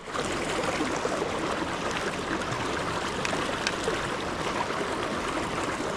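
A clear, trout-filled creek flows in a continuous, even rush of water, close and steady, with small splashy accents and no pauses.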